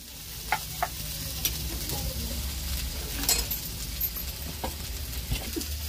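Masala paste roasting in a pan for a spicy village-style fish curry, a steady low sizzle broken by light scraping stirs and occasional soft clinks, with no talking.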